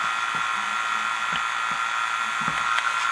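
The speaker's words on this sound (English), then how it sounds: "Okay, so you hear the pump change once I hit it." A vacuum pump runs steadily during an A/C compressor install on an Isuzu Elf truck, giving a continuous mid-pitched hum with a few faint knocks and clicks.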